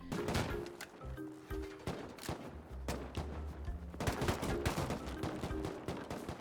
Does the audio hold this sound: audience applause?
no